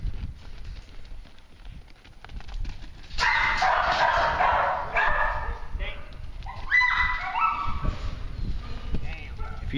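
A track dog barks and yips in bursts while driving lambs and goats, heard among animal movement and outdoor noise, with someone talking at times.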